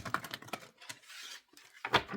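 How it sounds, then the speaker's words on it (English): A psychic tarot oracle card deck being shuffled, giving a few quick papery riffles and taps close by, with a short pause between bursts and no talking. "Give it a couple shuffles."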